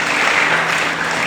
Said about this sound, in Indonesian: Kita berikan dulu tepuk tangan buat Tuhan.